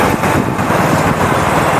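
A Royal Enfield Hunter 350 motorcycle cruises along a highway with a steady, loud engine drone and wind rush, no one talking.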